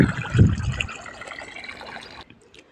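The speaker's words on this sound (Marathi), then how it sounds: "चला पाणी चाललेलं आहे." Water runs and fills a container in a home setting, with a gushing burst at first that settles into a steady trickle and then cuts off near the end.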